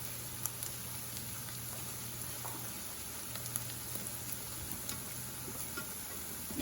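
Eggs with dhania cooking in a pan on low to medium heat, giving a faint, steady sizzle with scattered small pops and ticks throughout, no talking.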